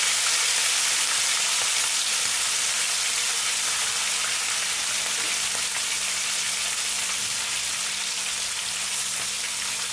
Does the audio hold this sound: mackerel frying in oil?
yes